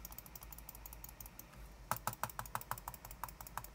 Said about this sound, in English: I want to test out, can you, like, spam the mouse button? Like, spam left click?